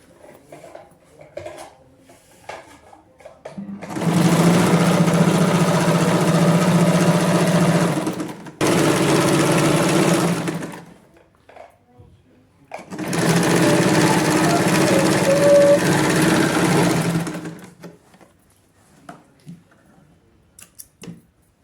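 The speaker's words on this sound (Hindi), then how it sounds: "अब हम ये सिलाई पूरी नीचे तक ले जाएंगे" A sewing machine stitches a hidden pocket onto a palazzo in two long, steady runs of close motor whirring, separated by short pauses and quiet handling sounds.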